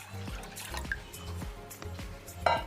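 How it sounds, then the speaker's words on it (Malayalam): Water is poured into a steel pot sitting on a lit gas stove, heard as quiet drips and small splashes against the metal. Faint liquid sounds come in a few separate bursts. "അതിലേക്ക് സ്റ്റീലിൻ്റെ ഒരു പാത്രം വെച്ച് കൊടുക്കുന്നു. എന്നിട്ട് ആ പാത്രത്തിലേക്ക് 2 കപ്പ് വെള്ളം ഒഴിക്കുന്നു."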